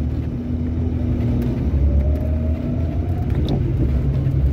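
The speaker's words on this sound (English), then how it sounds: "My car is not happy. It's starting to surge a little bit." A 1981 Ford Mustang's engine drones and rumbles steadily from inside the car while driving through a winter storm, surging slightly, loud and continuous with no talk over it.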